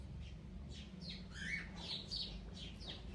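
Small birds chirp and squawk in a home backyard after heavy rain, a scatter of short, faint calls at moderate distance over a quiet low background hum.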